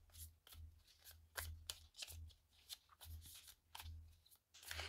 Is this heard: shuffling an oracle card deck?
yes